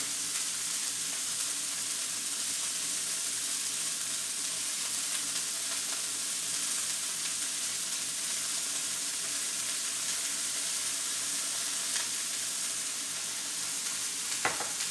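Oiled beef negimaki rolls cook in a hot pan, giving a steady, even sizzle and fry that holds with no break for the whole stretch, with small pops and no voices.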